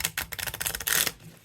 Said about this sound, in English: It's rather stiff in terms of riffle shuffling.